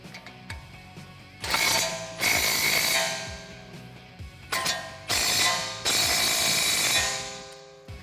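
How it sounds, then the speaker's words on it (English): A ratchet fitted with a 21 mm socket tightens a front brake bolt on a Jeep Wrangler JK, giving two long bursts of rapid, close metallic clicking separated by short pauses, with no voices. "Grab your 21 millimeter socket and tighten this down."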